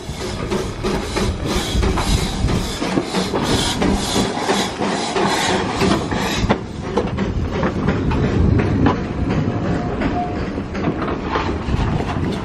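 Steam train running on rails in Wales, heard from inside a carriage: a steady, loud rumble of wheels with repeated clickety-clack rail joints and some hiss throughout, without pause.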